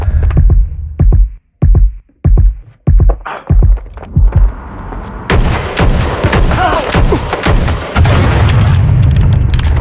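Frag grenade combat in Watch Dogs Legion: a run of sharp, loud blasts and gunfire bursts in quick succession, then a sustained roaring rumble of explosion and debris close by.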